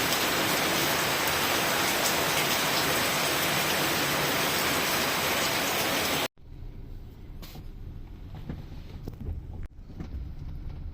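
Loud, dense rain roars for several seconds, then cuts abruptly to a quieter outdoor scene with light patter.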